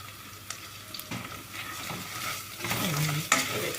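Flour roasting in oil in a pot while being stirred, with soft sizzling and scraping stir strokes, quiet and close, intermittent scrapes growing busier toward the end.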